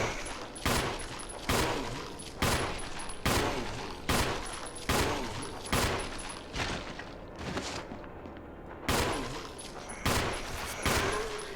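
Repeated single gunshots in the Resident Evil HD game, about a dozen loud sharp blasts spaced roughly a second apart in a steady rhythm, close and alone without talk.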